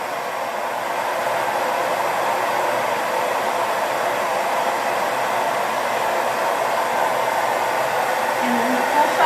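A hair dryer fitted with a diffuser, held about an inch from the scalp while drying hair, gives a steady, loud, even whoosh of airflow and motor hum that stays constant throughout with no talking.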